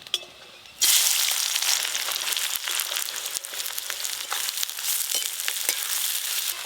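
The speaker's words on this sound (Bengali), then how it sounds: "তেল খুব ভালো করে গরম হয়ে গেল, প্রথমে দেব পেঁয়াজ কুচি" Chopped onions hit very hot mustard oil in a pan, bursting into a loud sudden sizzle after a quiet moment, then a steady crackling fry with scattered pops, no voices.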